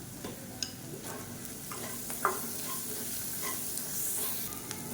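Sliced plantain fries in hot oil until crispy, a steady soft sizzle broken by a few sharp clicks of a spoon stirring in the pan.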